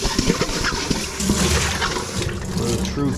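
A stainless steel bowl being washed under a running tap: a continuous rush of splashing water close by, while a voice talks over it at times.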